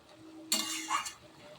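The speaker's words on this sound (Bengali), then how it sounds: "একটু নেড়ে চেড়ে দিচ্ছি।" A short scrape of stirring vegetables and stalks in a cooking pan with a little water, one brief clattering burst that fades into a quiet background.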